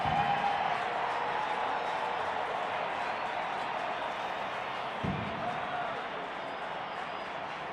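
A baseball stadium crowd during a Cardinals–Rockies game sends up a steady, broad roar and cheer at moderate distance, holding evenly throughout with faint distant shouts mixed in.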